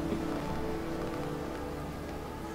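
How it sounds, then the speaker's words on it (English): Steady, even rainfall from the video game Heavy Rain, a continuous dense patter with no breaks. "it's just raining everywhere"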